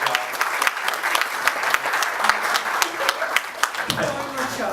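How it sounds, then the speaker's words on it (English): Audience applause rises from a crowd after a speaker honours the event's organiser at a presentation, dense steady clapping with sharp individual claps carrying throughout, fairly close and loud. "Round of applause for her."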